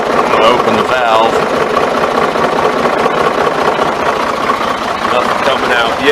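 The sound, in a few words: Ford 4500 backhoe engine started and idling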